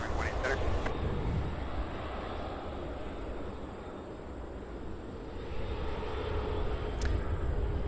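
An airliner at CVG in Cincinnati, Ohio, with a continuous engine roar that swells and fades over several seconds, a brief hiss near the start, and voices talking over it.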